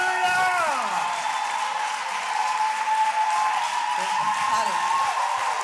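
A church congregation applauds the king of kings during a worship service, sustained clapping running under sung or chanted voices and a held musical tone throughout.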